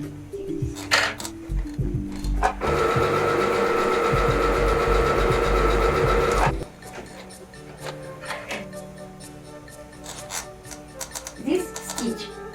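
A household sewing machine running an edge stitch, one steady mechanical whir for about four seconds amid softer clicks and handling noises before and after, close and fairly loud.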